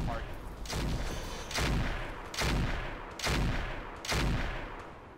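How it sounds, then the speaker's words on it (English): Weapon fire in the mech combat game BattleTech with the Roguetech mod, an AC-10 autocannon among the guns, booming in four evenly spaced heavy blasts over a steady rumbling background. "Firing on target."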